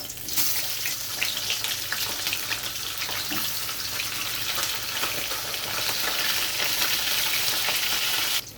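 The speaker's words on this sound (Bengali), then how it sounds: "এখানে নিয়েছি আমি ইলিশ মাছ, এগুলো ভাজবো।" Hilsa fish pieces frying in hot oil, a loud continuous crackling sizzle with bubbling texture, close and steady with no voices.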